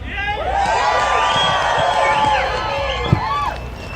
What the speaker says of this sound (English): Well, this is a good crowd.